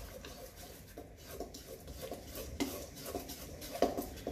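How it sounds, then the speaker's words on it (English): Bread dough is stirred by hand in a bowl, a faint, steady scraping and sloshing with soft knocks against the bowl sides. "Stir, stir, stir."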